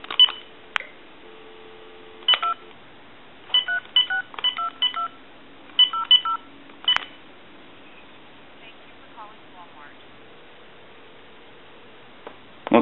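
An antique candlestick telephone joined to a bell box is dialed, giving a series of short, electronic tone bursts in quick clusters, then fainter tones and a steady tone in the background. A person speaks briefly at moments.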